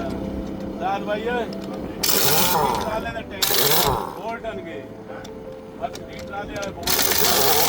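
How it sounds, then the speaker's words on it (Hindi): Wheel nuts and bolts come off a car tyre with bursts of loud metallic ratcheting and clanking. A voice talks between and over the tool bursts. "जवेद भाई टायर उतारने लगे हैं"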